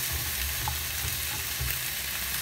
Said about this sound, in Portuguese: Só refogar a abóbora, deixar ela ficar massinha.